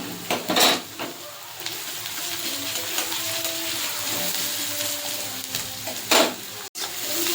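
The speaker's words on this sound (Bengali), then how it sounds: "পেঁয়াজটা এই যে ভাজা ভাজা হয়ে এসছে" Small onions and grated garlic fry in a pan with a steady, moderate sizzle, broken by a couple of sharp utensil scrapes and clinks near the start and end as the mix is stirred.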